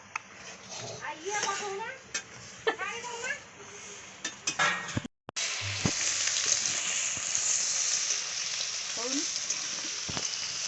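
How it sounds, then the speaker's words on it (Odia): Greens frying in a pan after a garlic tempering, a loud continuous sizzle with stirring and clinks of a utensil against the pan, and a voice talking over the first half before the hiss carries on alone. "ଶାଗ ଭଜା ପାଇଁ ରସୁଣ ଫସୁଣ ପଡ଼ି ଛୁଙ୍କ ଦିଆ ହେଲାଣି"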